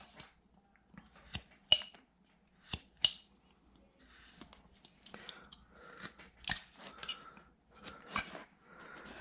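A blade carves a notch into a Civil War bust, making quiet, sporadic crisp cuts and scraping snicks spaced irregularly, close and alone.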